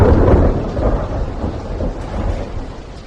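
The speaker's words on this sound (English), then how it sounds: "And then it started to rain." Heavy rain pouring down in a dense, continuous wash with deep low rumble like distant thunder beneath, loud and steady throughout with no voices.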